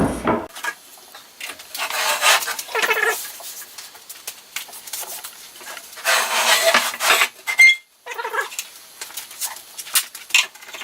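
Wooden domino joints being trimmed on a tool cabinet laid on its back, irregular bursts of close sawing and rasping wood strokes separated by short pauses, with a few light knocks.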